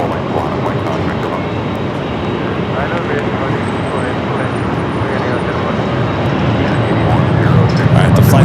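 An airliner rolls down runway 24 left at LAX for a flight to Atlanta, a broad steady roar of engines building slightly louder toward the end, with a voice talking over it.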